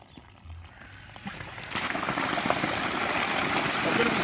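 Water from a fire hydrant surging through a connected 4-inch hose, starting as low rumbling and building at about two seconds into a loud, steady rushing hiss that continues to the end.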